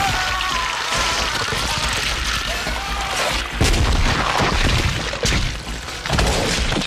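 Explosive syringe bullets blowing up vampires during a compound attack in Blade (1998), dense bursts of booms and shattering debris with several sharp heavy impacts over a chaotic roaring background.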